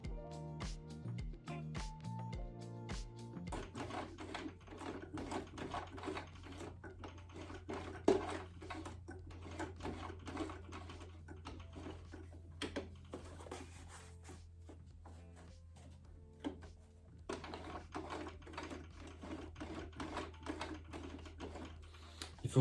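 A sewing machine stitching a weekend bag is cranked by its handwheel, producing a steady run of quiet mechanical clicks and knocks with a low hum underneath, alone and fairly close.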